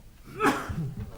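A single quick, muffled sneeze bursts out, followed by a soft breathy exhale nearby.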